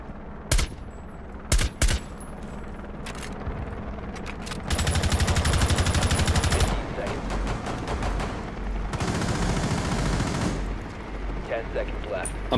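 Gunfire in Rainbow Six Siege: a few sharp separate shots, then two long bursts of loud, rapid automatic fire, close and dominant, with brief quieter gaps between.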